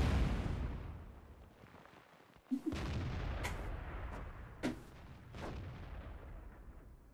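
Artillery fire in World of Tanks, a loud near boom followed by several sharp bangs and cracks over a low, rumbling battle backdrop that fades and swells.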